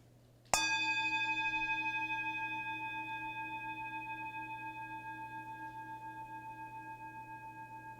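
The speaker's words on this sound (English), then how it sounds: "As we follow the sound of the bell into silence, we allow ourselves to arrive here fully." A single meditation bell is struck once during a Sunday service, ringing out clearly with shimmering overtones and decaying slowly over several seconds into a quiet room with a low steady hum.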